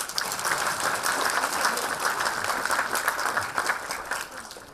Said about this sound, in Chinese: 我们以热烈的掌声再一次欢迎Marryyang教授。